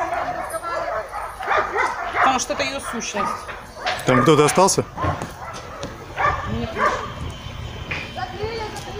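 Dogs at a dog shelter bark and yip in short bursts, fairly close, mixed with whimpering, while people talk loudly over them throughout.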